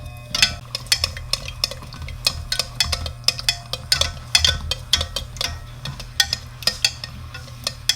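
Cold water is stirred in a pot holding a jar for melting wax to make a homemade eye cream. Near, repeated clinks and scrapes knock against the pot in an uneven rhythm, with no speech.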